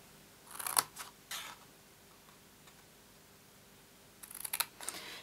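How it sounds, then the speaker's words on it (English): Scissors snip through craft card along a score line in a few short, crisp cuts. There are two quick bursts near the start and another pair near the end, with quiet between them. "on the second score line in, cut up to the first score line"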